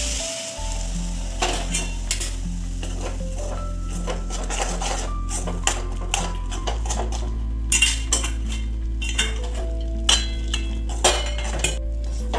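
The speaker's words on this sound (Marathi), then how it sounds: "आता मिश्रणामध्ये आपण पाक टाकूया." Mung dal halwa mixture stirred in a pot as sugar syrup goes in, with steady sizzling under repeated metallic spoon scrapes and clinks against the pan, close and fairly loud, no voices.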